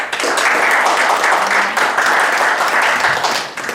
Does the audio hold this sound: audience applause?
yes